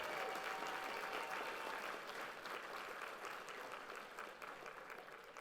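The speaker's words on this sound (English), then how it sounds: "A round of applause for those people" A crowd at a realtors' association holiday party and awards event breaks into a round of applause, dense and steady throughout, fading slightly toward the end.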